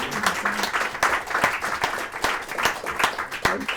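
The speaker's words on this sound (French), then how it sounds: "je crois qu'on peut applaudir" Audience at a spiritual-themed conference applauds, a dense, steady wash of many hands clapping throughout, fairly loud and close, with a few sharper individual claps standing out.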